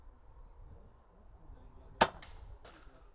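A single sharp crack of an air rifle firing a pellet at a wooden target, fitted with an Elltech TPS 4-24x56 scope, rings out mid-clip and decays quickly against quiet outdoor background.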